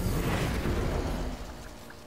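Incendio, a fire spell cast in a video game, bursts out as a loud, broadband roaring blast that holds steady for over a second and then fades.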